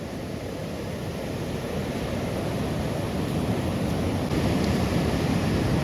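The Malang river in a village setting flows with a steady, full rushing roar, a constant broadband water noise that stays loud and even throughout with no voices.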